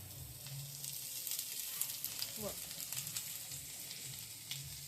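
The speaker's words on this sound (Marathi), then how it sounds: "खोबऱ्यानंतर त्या पाठोपाठ लगेच कांदा भाजून घेतोय आपण." Grated coconut and then onion dry-roasting in a kadhai, a steady close sizzle with soft scraping stirs and a low background hum throughout.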